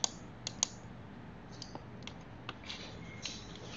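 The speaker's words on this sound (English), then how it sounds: "Then I click Run and type ZX." A computer keyboard produces a few quiet, scattered key clicks and taps, with a couple of sharper presses at the start, heard alone against a faint room hiss.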